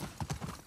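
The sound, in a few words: horse hooves clip-clopping, from the video game The Last of Us Part II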